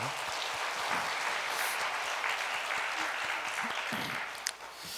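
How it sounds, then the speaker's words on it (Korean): A church congregation at a Friday prayer service claps for its children, a dense, steady burst of many hands filling the room at close range for several seconds before tapering off at the end. "우리 아이들 위해서 우리 박수 한번 하겠습니다"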